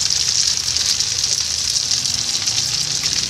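Crispy pork intestines with egg fry in hot oil, a steady dense sizzle running throughout at close range with no break or talk over it.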